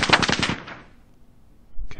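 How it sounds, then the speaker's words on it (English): A grenade launcher fires in a Soviet-Afghan War squad combat video game: a quick burst of loud rapid reports that fades into quiet, then a brief thump near the end. "Next, let's go ahead and use the grenade launcher."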